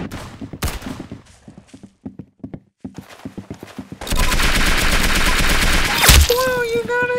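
Video game gunfire: after scattered clicks and short taps, a loud, continuous rapid burst of shots runs for several seconds, ending with a sharp blast and a ringing tone.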